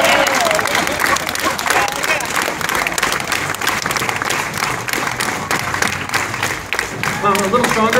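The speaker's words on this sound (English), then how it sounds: "But I get a slow clap for that joke" Audience applause at a farmers market street performance, a steady dense patter of many hands clapping throughout with crowd noise and voices mixed in.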